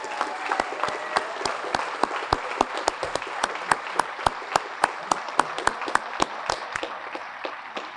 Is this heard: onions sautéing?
no